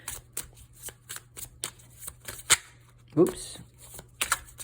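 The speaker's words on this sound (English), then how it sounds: "We'll shuffle up the cards." A deck of tarot-style cards is shuffled up close, producing repeated crisp riffling and flicking bursts with one brief spoken word in between.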